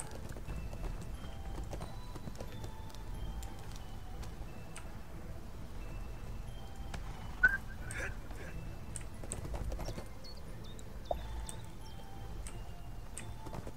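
Horse hooves clip-clopping in the online game ArcheAge, a steady faint rhythm of hoofbeats under game ambience with a few sharp interface clicks and brief voice chatter.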